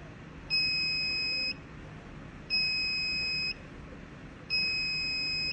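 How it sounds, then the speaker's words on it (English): A Heska fluid pump sounds its high pressure alarm: three identical one-second electronic beeps at even two-second intervals, clear and close over faint background hiss. "The next alarm I am going to go over is the high pressure alarm."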